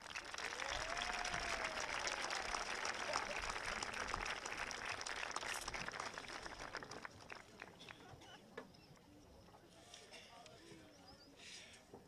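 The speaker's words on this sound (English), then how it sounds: "please turn and give your loving supporters a hearty round of applause" Graduation ceremony audience giving a sustained round of applause, dense clapping that slowly thins and fades, with voices and cheers mixed in.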